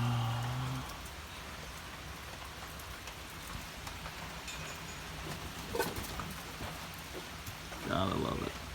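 Rain falling outdoors, a soft continuous patter of drops on surfaces heard at moderate level, with a brief voice at the start and small scattered noises near the end.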